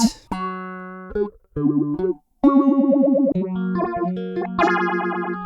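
Electric guitar phrases run through a pulsing, sweeping effect whose wobble shifts with playing intensity, with short gaps between bursts and no voices.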